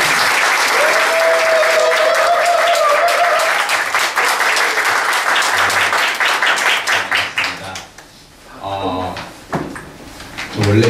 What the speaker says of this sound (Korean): 여러분 큰 박수로 김민식 작가님.